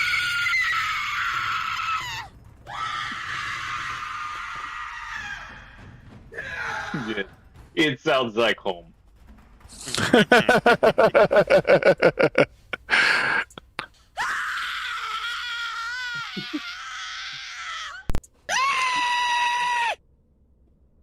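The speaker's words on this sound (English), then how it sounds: "just gonna continue enjoying listening to the sounds of the screaming coming from his, ravenous void" Screams pour from a ravenous void in a Dungeons & Dragons live play, bursting out in loud, harsh, repeated wails and shrieks with gaps of quiet between them, while people talk briefly.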